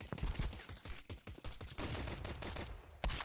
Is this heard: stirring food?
no